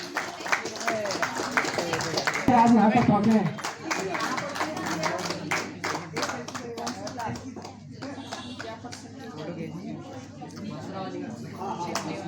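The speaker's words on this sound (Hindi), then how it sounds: "जोरदार तालियों से स्वागत।" Audience at a student felicitation ceremony in Nainital, Uttarakhand, claps to welcome a guest. The clapping is dense and loud early on, then thins to scattered claps while someone speaks over a microphone.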